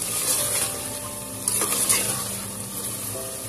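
Goat liver masala (kaleji) frying in a pan, a steady close sizzle with faint stirring and a few brief scrapes, no voices over it.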